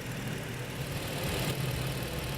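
A 2011 Ford Edge 3.5-litre FWD engine idles steadily while warming up after a thermostat replacement and coolant refill, a close, even, continuous mechanical hum with no talk.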